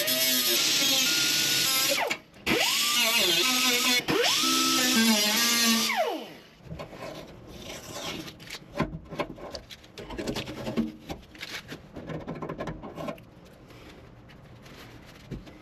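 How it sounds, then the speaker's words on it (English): A power tool grinding down a car dashboard part, loud high-pitched whine for several seconds with a brief stop and a falling pitch as it winds down, followed by quieter irregular scraping and handling noises. "I'm gonna go ahead and shave this thing down"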